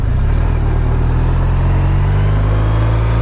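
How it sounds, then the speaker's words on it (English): BMW R12RT motorcycle engine running steadily up close at a loud, even idle with the throttle blipped lightly, without speech. "Why am I blipping the throttle? It is a BMW."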